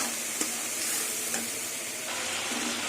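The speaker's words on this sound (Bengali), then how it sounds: "এবার সব কিছু দিয়ে আবার কিছুক্ষণ মশলাটা কষিয়ে নেবো" Turmeric, cumin, coriander and chili powder fry in a pan for a jackfruit and prawn dish, giving a constant dense sizzle broken by a few soft scrapes of stirring.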